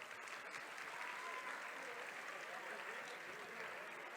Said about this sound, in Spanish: Pues un aplauso para todos.